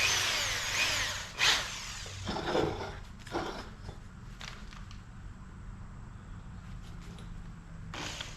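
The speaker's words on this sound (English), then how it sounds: "Drill us a hole through it." A power drill bores a hole through a part on a 1991 Kawasaki KX250 motorcycle during exhaust work, in several short loud bursts with quieter handling noises between.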